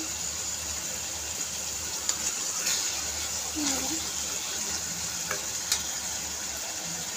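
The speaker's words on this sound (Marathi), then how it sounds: "बघा आता भोपळ्याने आपलं तेल सोडणं चालू केलेलं आहे, म्हणजेच की तो फ्राय झालेला आहे" Pumpkin pieces fry in hot oil in a pan, a steady close sizzle broken by a few stirring scrapes and light taps.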